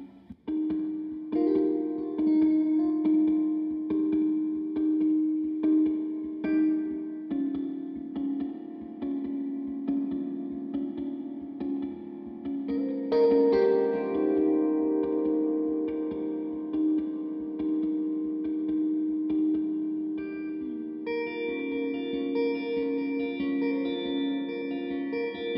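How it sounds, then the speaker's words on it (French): Electric guitar through a long reverb that emulates a piano resonating sympathetically, sustained chords blooming into a continuous wash where new tones ring out behind the notes, steady and up close with no voices. "une reverb qui émule un piano qui résonne sympathiquement avec quelqu'un qui jouerait dans la pièce"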